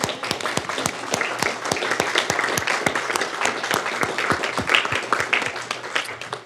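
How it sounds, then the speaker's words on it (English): At a county board of supervisors meeting, an audience applauds social services staff with strong, rhythmic clapping, loud individual claps landing at a steady beat over a background of scattered clapping, with no talk. "Stand and be applauded."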